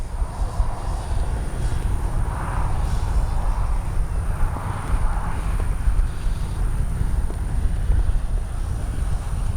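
An RC F4U Corsair warbird model airplane flies with its landing gear down, its engine a steady, fairly distant drone under broad outdoor noise, swelling slightly as it passes.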